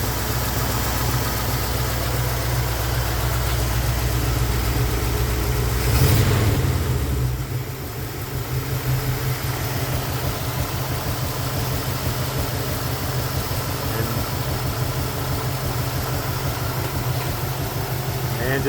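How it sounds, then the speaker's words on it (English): A car engine idles steadily at close range, a low continuous rumble that shifts slightly partway through and then runs on evenly, with no voices. "the motor, it sounds quieter"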